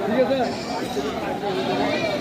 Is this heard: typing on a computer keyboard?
no